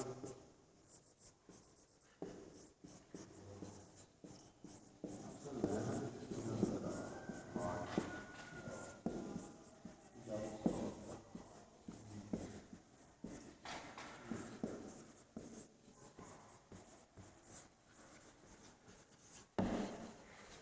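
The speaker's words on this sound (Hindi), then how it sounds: "जैसे मैं लिखता हूँ, बहुत जल्दी में लिखता हूँ" Fast handwriting with a pen on paper as a paragraph of Urdu is written quickly: continuous scratchy strokes and rubbing, close and fairly quiet, with brief pauses and a few louder taps.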